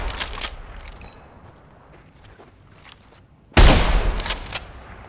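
Gunfire in the Apex Legends video game, scattered sharp shots early on, then a sudden loud close burst of rapid fire with ringing tails after a quieter lull.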